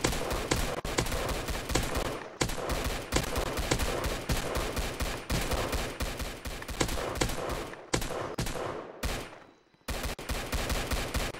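Rapid automatic gunfire blasts nearly nonstop at zombies in the Roblox game Zombie Attack, loud and dense bursts with only a few short pauses, no voices over it.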